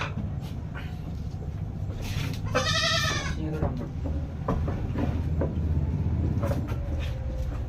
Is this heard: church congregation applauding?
no